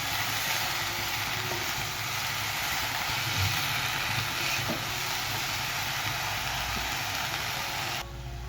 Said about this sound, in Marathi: ह्याला पण आपण 1 मिनिटभर चांगलं परतून घेऊया